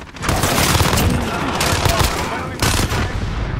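Rapid Fennec submachine gun fire in the shooter Modern Warfare, a dense loud burst running almost continuously, with a brief lull near the end before the shooting resumes.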